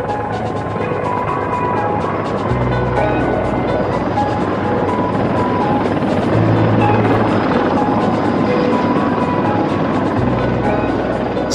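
A Mi-26 heavy-lift helicopter's heavy, steady rotor drone and turbine whine fill the scene continuously, loud and close, with deep low thumping throughout.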